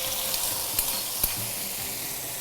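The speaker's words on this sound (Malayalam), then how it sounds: "ഇനി സ്ട്രെയിറ്റ് ആ നെയ്യോടുകൂടി ഇതിലേക്ക് ഒഴിക്കും" Hot ghee with fried cashews and raisins poured into a pot of mango and pineapple Vishu payasam, a steady loud sizzle with a few sharp pops and stirring scrapes.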